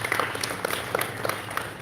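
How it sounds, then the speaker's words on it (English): A crowd at a live gathering in Hoima claps for itself in a brief, steady patter of scattered hands, moderately loud and fairly close, with no voices on top. "Please clap for yourselves."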